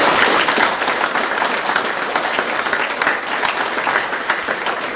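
Seminar audience giving a loud, sustained round of applause, dense clapping that continues steadily for about five seconds.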